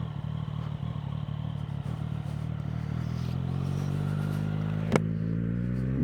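A Triumph Street Triple motorcycle engine drones steadily at cruising speed, with wind rumble and a single sharp click near the end.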